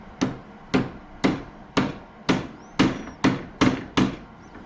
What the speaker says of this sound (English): Let me just give it just a little bit more of a whack here